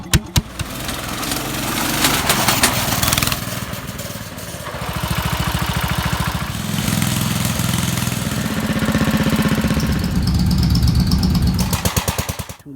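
An all-wheel drive Husqvarna lawn tractor, freshly tuned up, runs close by with a steady, rumbling small-engine drone that rises and falls slightly, no talking over it.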